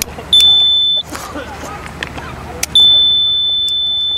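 A gas detector alarm exposed to butane emits a loud, piercing steady electronic tone in two long bursts separated by a short pause, close to the microphone.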